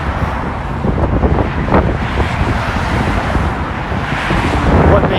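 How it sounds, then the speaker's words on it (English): Cars zipping past on a street in Las Vegas Chinatown during Chinese lunar new year, loud wind buffeting the microphone over a continuous roar of nearby traffic, with swells as vehicles pass close. "you're hearing some wind, but you're also hearing cars zipping past me"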